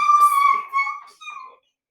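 An excited dog gives a high, drawn-out whine with two or three shorter yelps after it, close and fairly loud, then falls silent.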